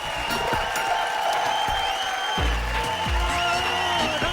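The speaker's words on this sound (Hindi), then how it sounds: "जोरदार तालियों से स्वागत कीजिए" An audience on a TV talent show claps steadily to welcome a judge, a constant, moderately loud wash of applause mixed with sustained music tones and low thumps.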